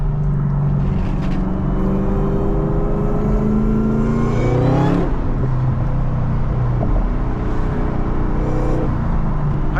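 A supercharged Chevrolet Camaro ZL1 with a manual gearbox pulling hard, loud steady engine roar rising in pitch, a sharp drop at a gear change, then climbing again, heard from inside the car.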